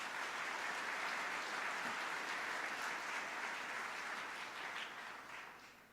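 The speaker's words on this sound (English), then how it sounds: "Let's give them all a round of applause." Sustained applause from a civic audience at a State of the City address in Buffalo, a dense steady wash of many hands clapping throughout that tapers slightly near the end.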